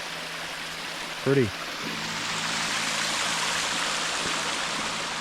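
The Red Cedar River flows beside the trail with a steady, broad rushing hiss that builds and holds throughout, while a person speaks a single word briefly early on.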